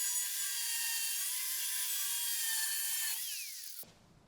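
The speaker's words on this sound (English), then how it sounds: "So I'm just going to quickly angle grind these." An angle grinder cuts metal on a Mazda Demio, a steady, loud high-pitched whine that holds for several seconds, dips in pitch under load, then stops abruptly and spins down.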